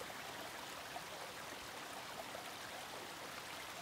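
Water pouring down Bard Falls, a mountain waterfall in North Carolina, a constant broadband rush that holds steady and fairly soft throughout, with no voices.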